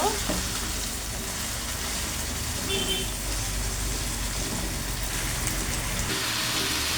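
Boiled greens sizzle and crackle as they fry with onion and garlic in a pan, a continuous bright hiss with occasional stirring scrapes, steady and close throughout.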